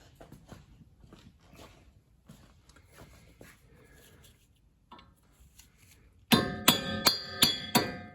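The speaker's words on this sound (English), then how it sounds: "A special big hammer and chisel." A big hammer drives a chisel against a car's front wheel hub during brake, suspension and wheel-bearing work: five loud, evenly spaced metallic strikes ring out after a stretch of quiet shuffling.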